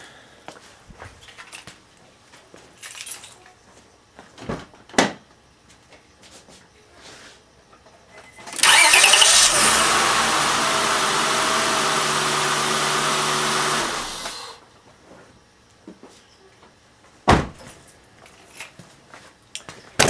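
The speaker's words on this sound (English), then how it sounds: "I'm going to see if this car starts." Starter on a 2003 Acura TL whirs for several seconds after replacement of the starter motor, loud and steady, then cuts off; quiet tool clatter and taps come before and after.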